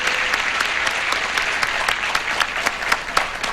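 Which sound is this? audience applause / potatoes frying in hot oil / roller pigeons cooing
audience applause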